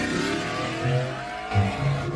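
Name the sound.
V8 engine revving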